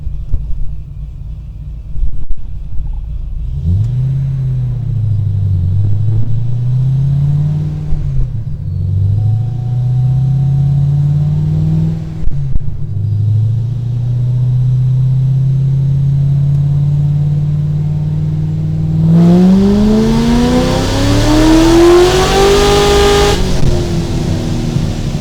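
A supercharged 700hp Corvette revs and accelerates hard, its deep engine rising through several gear pulls before a final high-pitched surge, loud and close with no talking.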